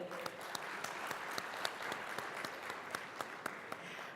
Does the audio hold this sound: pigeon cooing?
no